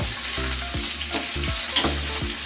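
Spare ribs for humba fry in a pan with a loud, continuous sizzle and crackle, and several sharp hisses rise as pieces go in, one after another.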